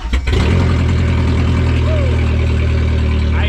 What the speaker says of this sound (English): So now I want to start the car and let it run for a minute